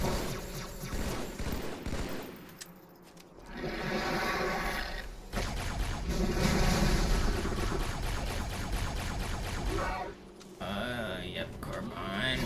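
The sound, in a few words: carbine gunfire in Halo 2 video game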